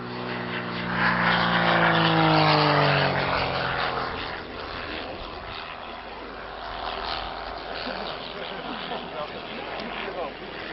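Vintage propeller aircraft flying at Old Warden, a loud droning engine roar that shifts in pitch as it passes and then fades into distant rumble, with someone talking over it.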